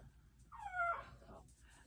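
Dogs whimper indoors in a craft room, a single drawn-out whine rising and falling over about a second, faint and soft against low background hum.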